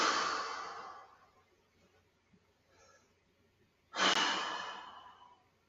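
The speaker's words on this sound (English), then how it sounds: "Deep breaths." Deep breathing while stretching in a taekwondo class: a long, slow exhale fades out, a quiet pause follows, then a second strong breath starts sharply and trails off. Both are close and clear.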